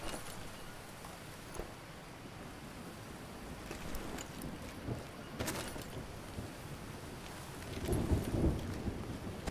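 Rain falls steadily in the jungle of the survival game Green Hell, with rumbles of thunder rolling in at intervals and a heavier boom near the end, all fairly faint and without voices.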